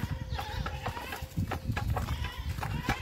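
Goats bleat repeatedly while being fed dry leaves in the dry season, several close, wavering calls overlapping with rustling and shuffling, with no talking.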